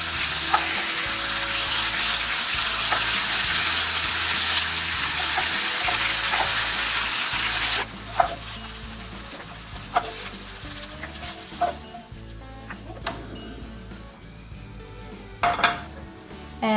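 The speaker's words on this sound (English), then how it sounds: "I'm going to pan fry on both sides of the tofu until they are golden brown and a little bit crispy on the side" Tofu pan frying in a pan, a steady loud sizzle filling the first half, then quieter crackling with occasional sharp clinks of utensil against the pan.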